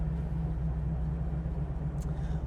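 A 1969 Chevrolet Camaro Z/28 idling just after starting, giving a steady low rumble with a constant, even hum. It holds throughout at moderate level, nearby and without voices.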